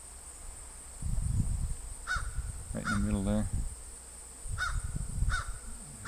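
A crow caws a few times in short repeated calls at an outdoor volunteer fire department flea market in Orford, New Hampshire, the calls sounding over someone talking nearby and steady background noise.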